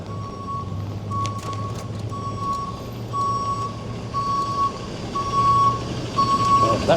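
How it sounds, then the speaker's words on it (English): A garbage truck backing up gives a regular high reversing beep, repeated about once a second over a low diesel rumble and street noise, heard from a moving bicycle in a city. "What's this garbage truck doing up here?"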